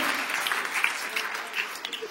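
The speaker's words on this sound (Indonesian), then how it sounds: "Tepuk tangan yang meriah kemudian." An audience claps briefly at a Christmas church sermon, a dense, even patter of hands filling the room for about two seconds at moderate distance.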